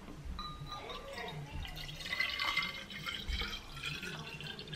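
Water tipped from a bottle into a container, a continuous gurgling pour with dripping and splashing, heard close up against a low background.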